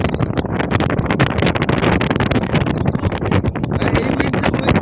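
A strong southern wind blows across Mandermoni sea beach under cloudy skies, roaring continuously and buffeting the microphone with loud, gusty bursts throughout.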